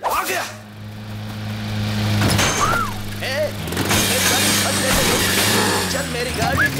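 A cartoon car starts up and drives off in a comic chase, its engine hum mixing with bright whooshing sound effects and background music, steady and fairly loud throughout.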